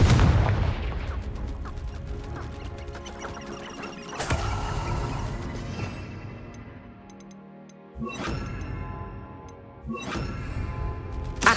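Confringo blasting spells in Hogwarts Legacy, played on hard difficulty in the Percival trial, set off repeated loud explosive bursts with sharp cracks and booming impacts spaced several seconds apart, with decaying rumble between them.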